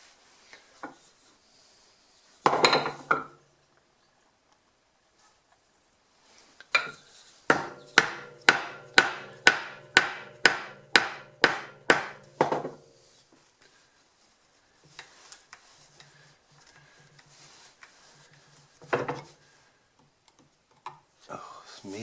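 Mallet striking a chisel into hard maple: a close, evenly spaced run of about a dozen sharp wooden knocks, with a few isolated blows before and scattered quieter taps and scraping afterward.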